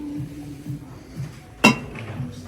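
A glass fruit bowl gives a single bright clink as it is handled, standing out briefly over a quiet indoor background.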